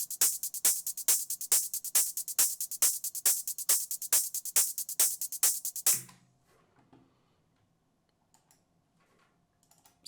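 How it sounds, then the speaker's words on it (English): Three layered 808 hi-hats in an EBM track built in Ableton tick out a steady, crisp pattern, each hit sharp and evenly spaced, running for about six seconds before cutting off into near silence. "Next we have hi-hats."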